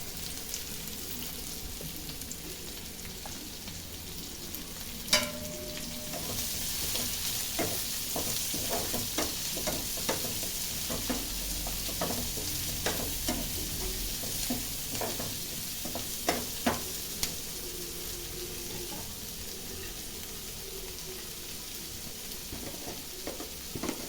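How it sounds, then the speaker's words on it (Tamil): Onions frying in hot oil for tempering a paaya dish give a steady, close sizzle that runs the whole time, with occasional scrapes and stirring knocks from a utensil in the pan and no talking. "தாளிக்கிறதுக்கு பெரிய வெங்காயம் கட் பண்ணி வச்சுருக்கோம்"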